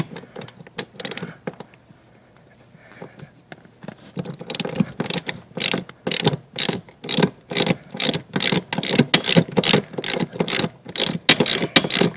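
Hand ratchet turning out the seat motor bolts on a Jaguar X-Type power seat, a few quick clicks followed by long steady runs of rhythmic ratcheting strokes, close and loud, no voices.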